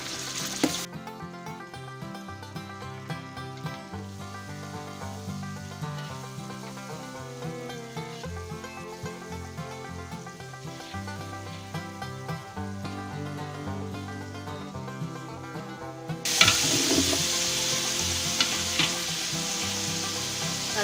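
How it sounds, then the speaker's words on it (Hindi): Beef pieces fry in a pan for Afghani Kabuli pulao, giving a continuous soft sizzle that swells into a louder, brighter spatter toward the end. "गोश्त हमारा अच्छे से फ्राई हो गया।"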